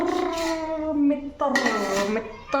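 Household dishes and utensils clatter and clink as they are handled and set down in a home kitchen, heard up close while someone talks over them.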